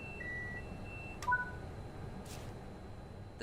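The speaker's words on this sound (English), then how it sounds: "The tilt alarm will sound for a second time. Acknowledge the alarm again." Train cab tilt alarm in Train Sim World 5, a short electronic beep tone sounding once or twice amid quiet cab hum, with a faint click near the end.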